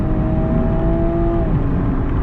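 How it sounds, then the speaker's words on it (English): A 2018 BMW 340i kicks down for hard acceleration, a loud close engine roar with a rising tonal whine that drops away midway as the gear changes, then a steady heavy rumble. "When you punch it, you hit the downshift, and then the car will detect what speed you need to go"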